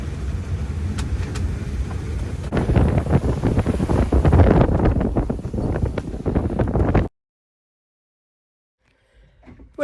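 Strong wind roaring across the microphone while sailing at sea between Marquesas islands, loud and gusty with boat and wave wash beneath for about seven seconds, then cutting to near silence.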